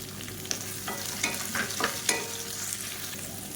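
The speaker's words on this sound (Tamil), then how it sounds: "இப்போ இதெல்லாம் நல்லா வதங்கிடுச்சு மீடியம் சைஸாக ரெண்டு பெரிய வெங்காயம் நீளமாக நறு நறுக்குனதை சேர்த்துக்கலாம்" Two medium-large onions, sliced lengthwise, are sautéed in a pan. A steady sizzle of frying runs throughout, with several scraping stirs of a spatula close by.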